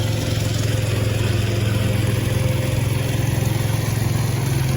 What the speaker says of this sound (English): That right there is a nice tractor.